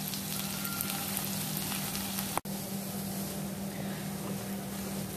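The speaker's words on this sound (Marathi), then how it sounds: "कांदा जास्त शिजवून घेण्याची गरज नाहीये, साधारण 1 मिनिट परतून घेतलेला आहे।" Onion, garlic and green chilies fry in hot oil for a Maharashtrian drumstick vegetable dish, giving a steady close sizzle throughout with one brief dropout midway.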